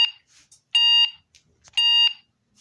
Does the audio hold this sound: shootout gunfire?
no